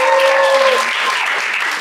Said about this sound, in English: I think you guys are going to clap for us.